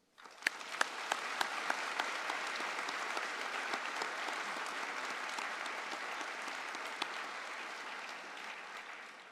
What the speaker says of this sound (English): join me in a round of applause to show appreciation for the faculty and staff